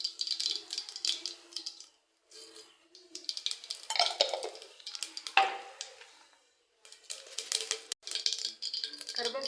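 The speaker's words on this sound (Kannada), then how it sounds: "ಎಣ್ಣೆ ಕಾಯ್ದಿದೆ. ಇವಾಗ ಸಾಸಿವೆ ಹಾಕ್ತೀನಿ." Mustard seeds dropped into hot oil for a Karnataka-style field bean (huruli kayi) stir-fry give bursts of crackling, sizzling and rattling. The sound is moderately close and comes in uneven clusters separated by short pauses. No one speaks.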